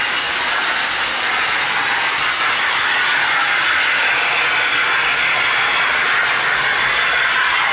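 A Lionel model steam locomotive fitted with the early electronic Mighty Sound of Steam unit runs steadily, giving a loud, continuous hissing chuff that holds at the same level throughout, with no talking.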